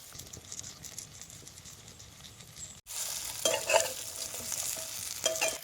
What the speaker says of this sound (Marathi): आता वांगी बी तेलात सौद्यात चांगली खालवर करून घ्यायची